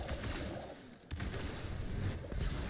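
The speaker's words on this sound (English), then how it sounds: "So you can see how big this explosion is." Big Rain of Fire ignition explosions in Destiny 2 boom in loud, dense bursts, with a sharp blast near the start and another near the end over a constant rumbling wash of game effects.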